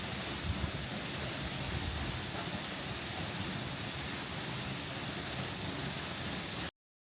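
Curug Juneng waterfall in Baturraden, Banyumas, gives a steady, dense roar of falling water that holds at an even level with no voices, then cuts off abruptly near the end.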